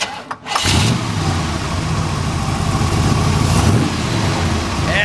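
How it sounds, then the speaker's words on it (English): A 1966 Chevrolet Corvette with side pipes cranks briefly and fires up, then settles into a loud, lumpy, rumbling idle that sounds close by and carries on steadily with no talk. "We're gonna go ahead and fire it up for you."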